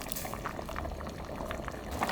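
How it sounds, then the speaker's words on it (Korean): Noodles and chicken boiling vigorously in a pot, a close, steady bubbling and gurgling that continues without talk. "이래갖고 국수가 익을 때까지 팡팡 끓여주세요"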